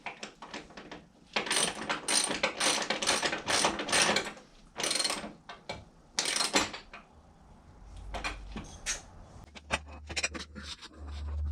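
Ratchet socket wrench turning a bolt on an old workbench, rapid close-up clicking in quick strokes with short pauses between them, plus a low thump or two toward the end.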